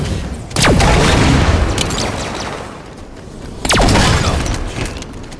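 Shotgun fire in the video game Halo 5 Guardians, two loud heavy blasts about three seconds apart, each with a booming tail.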